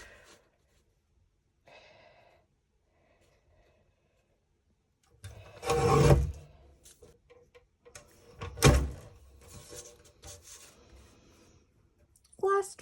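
Card stock being cut into artist trading cards, heard as a few distinct bursts of cutting near the microphone, with quieter handling sounds in the pauses between them.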